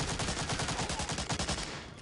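Rapid, sustained automatic gunfire from Medal of Honor: Allied Assault on PC, dense bursts of shots cracking in quick succession for about two seconds, no talking.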